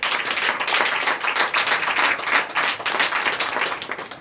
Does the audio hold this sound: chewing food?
no